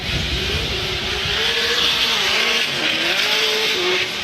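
A Formula Drift car on Falcon tires roars at near full throttle through a transition during qualifying in New Jersey, its engine note wavering steadily while the tires hiss and squeal continuously under a loud crowd-like wash.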